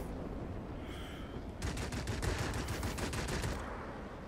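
Aircraft machine guns from an IL-40 in World of Warplanes fire in a rapid rattling burst after a brief quieter lead-in, dense repeated shots lasting about two seconds over a steady engine drone.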